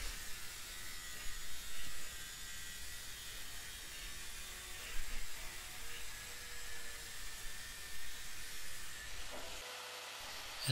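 An angle grinder cutting a straight line through mild steel plate makes a steady, thin, hissing whine with slight surges, fairly faint and unbroken for the whole stretch.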